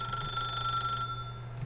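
Telephone ringing in The Stanley Parable, a steady electronic trill held for about a second and then cut off, clear and close with no voices.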